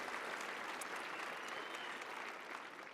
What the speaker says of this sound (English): Yes, please applaud that.